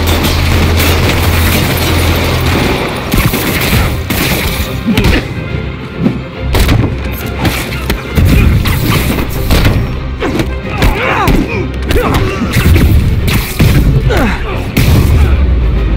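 Video game gunfire and heavy booms crash through combat in Marvel's Spider-Man Remastered, with dense rapid shots, thuds and impacts layered over game music and shouting voices, loud and continuous.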